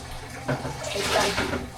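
Water is poured into a container nearby, giving a brief, close splashing gush that lasts under two seconds.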